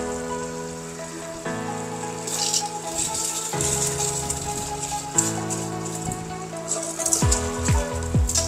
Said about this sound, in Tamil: இந்த அரிசியை நான் இதில் சேர்க்குறேன்.